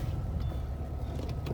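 A Ford Fiesta ST150 engine runs steadily as the car rolls down off ramps and pulls away, with a low continuous rumble at moderate loudness, close by, and no speech over it.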